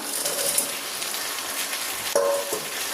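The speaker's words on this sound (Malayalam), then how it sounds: "ഫ്രൈ ആക്കി വെച്ചിരിക്കുന്ന ഈ ചിക്കൻ ഇട്ട് കൊടുക്കാം" Fried chicken pieces dropped into boiling vinegar for chicken pickle, giving a close, steady sizzle and bubbling with a brief clink of a utensil partway through.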